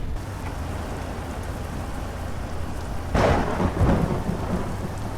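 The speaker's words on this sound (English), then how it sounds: "Yeah, I know, you big scary storm." Steady heavy rain pours through a thunderstorm in American Truck Simulator, with a louder rumble of thunder rolling in about two-thirds of the way through; no one speaks.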